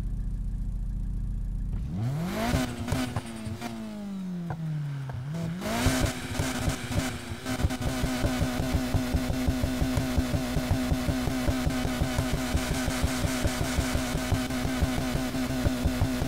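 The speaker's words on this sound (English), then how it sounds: "So you kind of hear the pops a little bit more, but it doesn't sound as like raspy." Car exhaust and engine revving in the racing game Need for Speed Heat, an engine starting up and sweeping through revs, then settling into a steady rumble with rhythmic exhaust pops, loud and alone.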